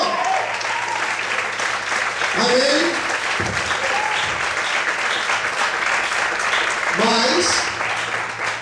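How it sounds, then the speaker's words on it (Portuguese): Church congregation applauding during a sermon, continuous clapping with voices rising and shouting over it throughout, nearby and fairly loud. "Você pode aplaudir o Senhor?"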